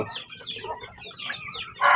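Chickens on a small backyard farm cluck and chatter near at hand, with several birds overlapping in busy, uneven calls and a louder squawk at the end.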